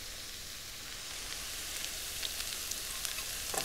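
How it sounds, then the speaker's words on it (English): Sausage with chopped scallions and minced garlic sautéing in a pan, a steady close sizzle and crackle throughout, with a few faint stirring clicks near the end. "Just give that a quick sauté."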